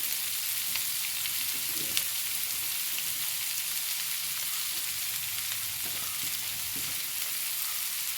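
Bottle gourd fries with a pinch of turmeric powder added, a constant close sizzle with occasional spatula scrapes and soft knocks against the pan, steady throughout and free of speech.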